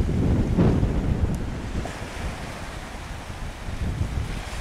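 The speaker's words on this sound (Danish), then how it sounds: "Vi kan se på bølgerne" Sea waves wash against the coast, a loud, continuous surf roar with heavy wind buffeting the microphone, and no one speaking.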